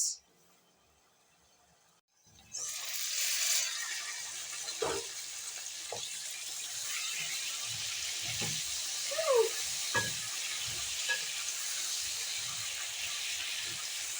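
Onions and potatoes frying in a skillet over medium heat for a breakfast dish, starting near-silent and then breaking into a steady hiss and sizzle with scattered pops and spatula taps, moderately close and unaccompanied by speech.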